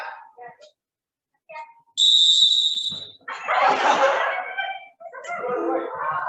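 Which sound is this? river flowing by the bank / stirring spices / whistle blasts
whistle blasts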